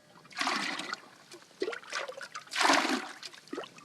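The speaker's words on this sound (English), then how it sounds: "So just fill up the pannikin here and straight on the fire." Salty, undrinkable water fills a pannikin at a bush camp in Australia, gushing and splashing close by in several loud bursts of a second or so each.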